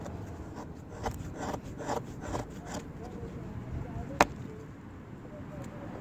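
A knife carves curl shavings from fatwood for kindling, giving repeated rasping scrapes in an uneven rhythm, close by, with one sharp snap or click near the end.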